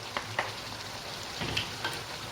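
Eggplant pieces frying in hot oil in a pan for Sicilian caponata, a steady bright sizzle with a few sharper crackles and pops, close and alone without voices.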